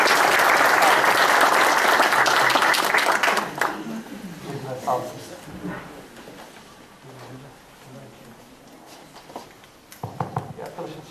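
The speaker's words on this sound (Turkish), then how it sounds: "Hocam önce sizi bir alkışlayalım bence." Audience applause at a tourism event in Karaman, Turkey, loud and dense for the first few seconds, then fading into scattered claps and murmuring voices, with a brief burst of clapping near the end.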